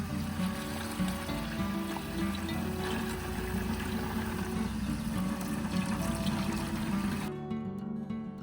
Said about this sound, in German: Gießen Sie alles in eine Gießkanne und verdünnen Sie es mit 10 Litern Wasser.